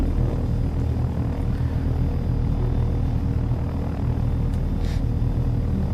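A helicopter flies in the simulator game Take On Helicopters, a steady, loud rotor and engine drone with a deep rumbling throb that holds level and unbroken throughout.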